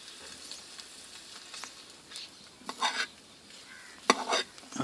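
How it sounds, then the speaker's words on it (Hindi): Egg yolks cook in oil in a pan while being stirred, giving a faint low sizzle broken by a few sharp scraping and clinking bursts from a utensil against the pan toward the end. "एक जैसा ही इसको हिलाएं"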